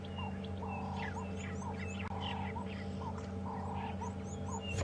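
Wild birds call repeatedly on a morning safari drive at Djuma Game Reserve, a series of short clear whistles and chirps, moderately distant, over a steady low rumble of an idling vehicle.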